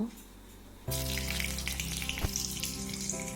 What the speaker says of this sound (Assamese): পাঁচফোৰণ দিলোঁ আৰু পাঁচফোৰণকেইটা ফুটিব দিলোঁ